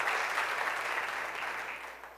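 A church congregation claps together during a Sunday morning Lord's Supper service, a dense steady wash of applause in a reverberant hall that fades slightly over two seconds.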